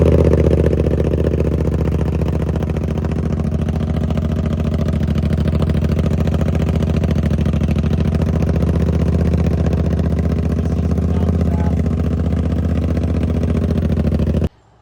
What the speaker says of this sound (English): We'll do a cold start and see how this sounds.